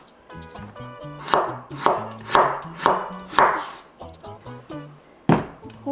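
A knife cuts potato into thin slices on a cutting board, giving a run of about five crisp, evenly spaced chops and then one last cut, close up, while a person talks over the top.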